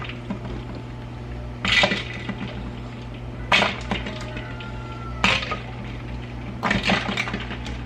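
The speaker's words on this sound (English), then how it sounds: "I'm going to remove the eggs and put them in ice water" Boiled eggs go into a bowl of ice water one at a time, four separate splashing clunks spaced a couple of seconds apart over a quiet kitchen background hum.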